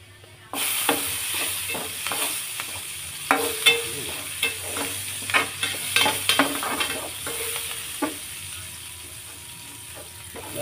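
Onion frying in a pan with garlic, a loud close sizzle that starts suddenly and continues steadily, broken by repeated scraping and clinking stirs of a utensil.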